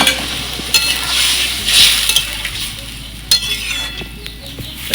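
Water poured into a pot of fried rice while cooking Basanti pulao, giving a loud splashing sizzle that surges and fades, with a few sharp clinks of a utensil against the pot.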